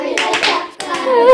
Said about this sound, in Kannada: ಸಾಧನೆ ತೋರಿದ ನಿಮಗೆಲ್ಲ ಸಾವಿರ ಸಾವಿರ ಚಪ್ಪಾಳೆ